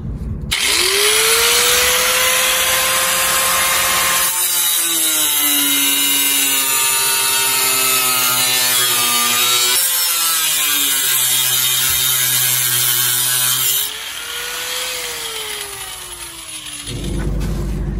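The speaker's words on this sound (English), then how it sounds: "we're going to have to cut off some tabs that are sticking out so it can fit" A power tool grinds and whines continuously at high pitch, its tone rising and falling as it cuts through metal tabs during an intercooler install, loud and close.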